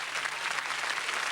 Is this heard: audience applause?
yes